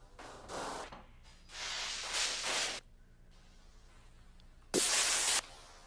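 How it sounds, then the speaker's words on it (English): Percussion patch from the Phase Plant synth, made of noisy, hissing bursts of varied length with short gaps of quiet between them, heard alone. "This is a percussion maker,"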